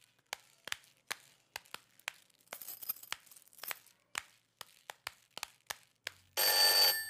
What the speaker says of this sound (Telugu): ఏంట్రా ఫోన్ రింగ్ అవుతూనే ఉంది?